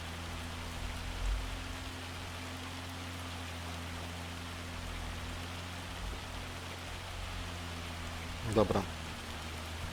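Steady rain falling in the Farming Simulator 25 video game, a constant even hiss layered over a low machine hum, with a single word spoken briefly and a short clatter near the end.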